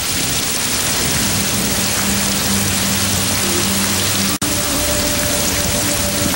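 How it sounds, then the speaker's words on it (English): Steady heavy rain falls outdoors in California, a dense loud hiss of drops on surfaces with a faint low rumble beneath, continuous apart from one sharp momentary break, and no talking. "It's starting to rain."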